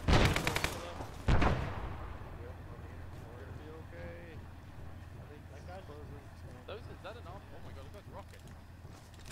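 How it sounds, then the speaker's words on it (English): Gunfire in a Vietnam war video game: two loud bursts of shots at the start, then quieter background noise with voices talking over it. "I was shooting at another friendly"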